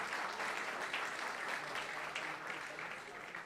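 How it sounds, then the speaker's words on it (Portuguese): An audience at a Paraná tourism event at Hard Rock Café Curitiba applauds, a dense sustained roar of clapping that holds steady and tapers slightly toward the end. "Uma salva de palmas, senhoras e senhores"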